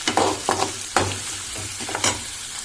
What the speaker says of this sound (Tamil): கடலைப்பருப்பு உளுத்தம்பருப்பு வதங்கின பிறகு வெங்காயம் போட்டு வதக்கிக்கலாம்.